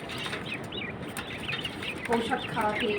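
Quail chirp and call repeatedly outdoors at a quail farm over a steady noisy background, the calls growing busier toward the end.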